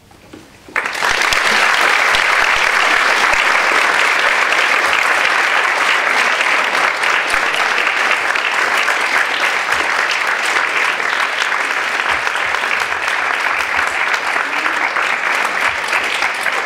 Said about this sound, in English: Possibly the longest applause I've heard in these lectures.